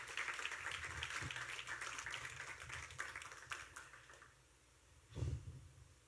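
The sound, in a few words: congregation applause in church service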